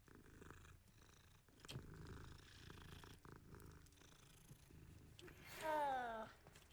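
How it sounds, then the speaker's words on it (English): A cat purrs softly in Hogwarts Legacy among quiet game ambience, with a brief higher rising cry near the end. "Hello, little kitty."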